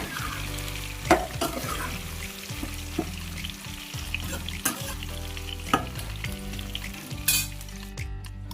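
Pork frying in hot oil for an Assamese pork and banana shoot dish: a steady, close sizzle with repeated scraping clatters of stirring spread through the whole stretch.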